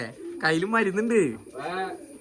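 Close, low throaty cooing of a pigeon in two rolling phrases with a short pause between, clear and fairly loud against a quiet background.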